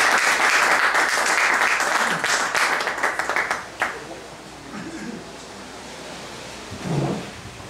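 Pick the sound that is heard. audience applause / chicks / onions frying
audience applause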